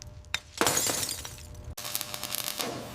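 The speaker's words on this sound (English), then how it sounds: "Out with the old broken glass." Old broken glass from a heavily damaged BMW M5 E28 window is knocked and cleared out, with bursts of shattering, crunching and tinkling fragments, a loud crash near the start and scattered clinks afterwards.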